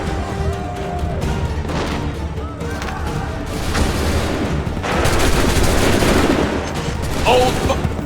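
Musket volleys in Assassin's Creed 3 battle: a continuous crackle of scattered shots and heavier booms swelling toward the end, with commands shouted over the din.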